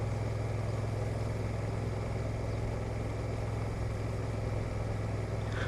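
A Honda NT1100 DCT motorcycle cruises steadily in third gear, its engine giving a loud, constant low drone mixed with wind rush. The tone stays steady from start to finish.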